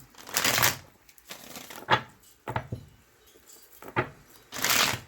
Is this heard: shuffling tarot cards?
yes